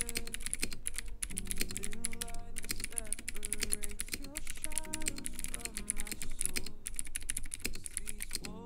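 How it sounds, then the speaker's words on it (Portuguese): Someone types on a mechanical keyboard with clicky blue switches, giving a dense, fast run of crisp key clicks over a musical background and a voice. "Blue tem um retorno tátil sonoro, o que não se torna recomendável para pessoas que preferem um teclado mais silencioso."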